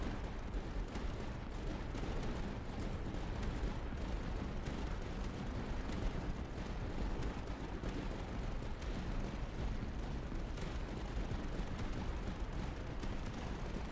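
Medium mortars in the tower defense game Tower Dominion fire in a continuous barrage, a dense rumbling roar of overlapping thuds and blasts that never lets up.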